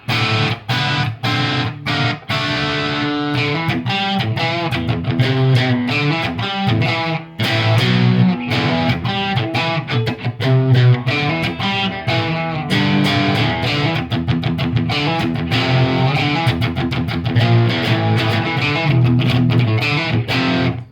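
An electric guitar on its single-coil bridge pickup through a Marshall amp plays a steady busy run of sharp, bright picked notes and chords, continuous and close without talk.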